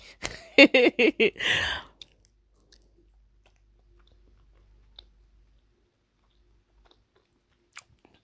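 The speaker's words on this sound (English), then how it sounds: "I'm just chewing some gum right now, so I'm sorry if you hear me." Close, wet chewing of gum with quick mouth clicks and smacks for about two seconds, then near silence broken by faint scattered clicks during a polygel nail session.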